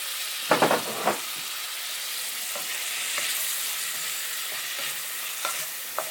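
Pork sizzles in a pan with garlic, tomato and onion, opening with a burst of clattering as it goes in, then a steady close frying hiss with occasional light stirring scrapes.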